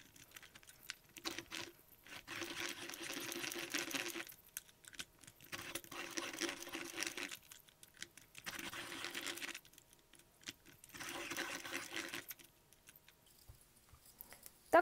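A hand-cranked mechanical pencil sharpener grinds a pencil in four steady bursts of a few seconds each, with brief quiet pauses between them and no talking.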